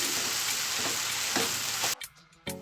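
Lentils frying in a pan over medium heat, a continuous sizzle with stirring scrapes, then a sudden drop into near quiet with a few clinks before the sizzle returns.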